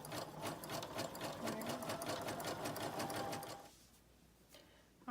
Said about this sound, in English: layers of elastic that you are feeding through your machine